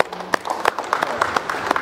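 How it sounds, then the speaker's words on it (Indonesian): Scattered clapping from an audience at a vocational high school event in Magetan, a brief burst of uneven hand claps, fairly close and clear. "Iya, tepuk tangan."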